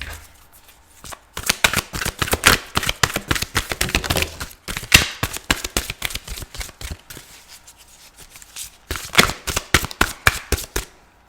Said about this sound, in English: So I'm using the Archangel Power Tarot cards by Doreen Virtue